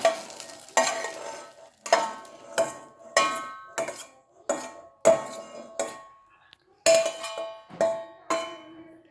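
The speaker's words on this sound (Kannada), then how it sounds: "ಈಗ ಬಾಣಲೆಯಿಂದ ಈ ಪ್ಲೇಟಿಗೆ ಹಾಕ್ಕೊತಿದ್ದೀವಿ" Fried bendekai (okra) palya is scraped and stirred out of a pan onto a plate, with about ten sharp metal spatula scrapes and clinks against the pan, each followed by a soft rustle, all close and loud.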